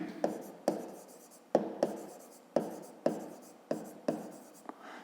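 A pen writes out a fifth-grade math solution on paper, producing a steady series of short scratching strokes with sharp taps roughly every half second, close and clear.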